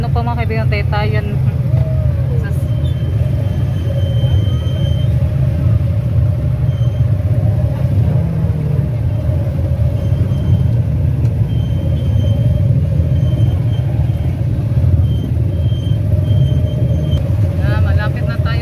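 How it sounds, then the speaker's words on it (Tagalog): Steady road traffic of cars and motorcycles on a highway in the Philippines, a continuous low rumble with passing engines, loud and constant throughout, with people talking over it. "Traffic."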